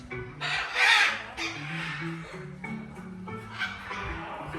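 Birds sitting together at a park in Poland give loud, harsh calls, with a strong burst early on and then a few weaker squawks over a quieter background.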